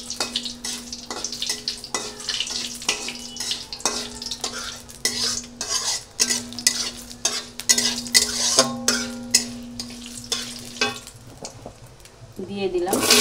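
Gobindobhog rice stirred and fried in a wok for khichuri, with pumpkin, giving steady sizzling and repeated scraping clinks of a spatula against the pan, close and busy, under a low constant hum; a voice speaks briefly near the end.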